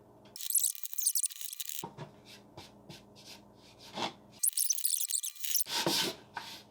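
Hand sanding of a wooden birdhouse with 80 grit sandpaper gives close, rough rasping strokes in two long bursts, with shorter scuffs and small knocks between them.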